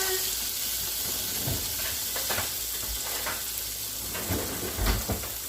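Onions and garlic hit a hot pot for a yellow split pea chowder with smoked meat, giving a bright steady sizzle broken by a few stirring knocks and scrapes, close and fairly loud, with no talking.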